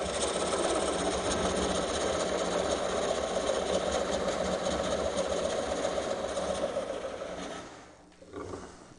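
An Easy Core coring machine runs with its cutter spinning, a steady loud motor drone with a buzzing mechanical texture that holds evenly, then drops away near the end with a brief bump as it spins down.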